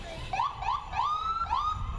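A volunteer ambulance corps rig sounds its siren during a St. Patrick's Day parade, with repeated rising electronic whoops over a steady outdoor crowd rumble, at moderate distance.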